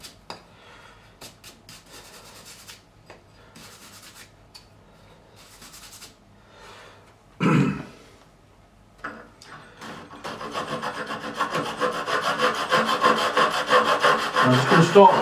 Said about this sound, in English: We're just going to brush the file